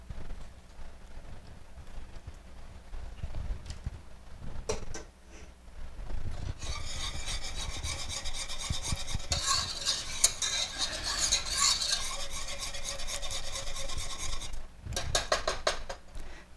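Softened butter is stirred into a thick chocolate cream pie filling, giving a steady close scraping and smearing of a utensil through the mixture, with a few knocks before the stirring settles into a continuous rhythm.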